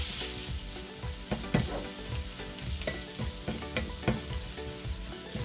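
Ginger garlic paste fries in a pan with onions for a Kerala-style egg roast, a steady close sizzle broken by repeated scraping and clacking strokes of a spoon stirring, with no talking.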